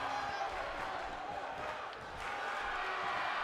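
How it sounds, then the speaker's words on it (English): Virtual wrestling arena crowd in WWE 2K18 clapping and cheering for the wrestler Bjorn Ironside, a steady dense roar of applause and shouts that holds at an even level throughout. "The crowd on their feet just clapping away for Bjorn Ironside."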